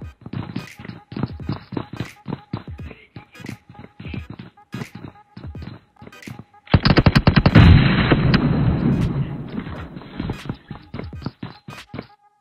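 Gunfire in a shooter video game: rapid bursts of sharp, loud shots in uneven rhythm, building to a dense sustained volley midway before breaking back into scattered bursts, with occasional talk underneath.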